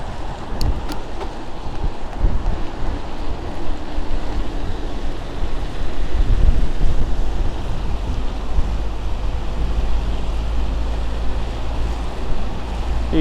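Strong wind of about 20 mph buffets a muff-covered microphone on a coastal bike ride at St Ives, Cornwall, in December, making a continuous low, rumbling roar throughout.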